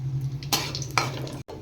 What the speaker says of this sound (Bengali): তেলে দিয়ে দিচ্ছি শুকনো লঙ্কা আর তেজপাতা।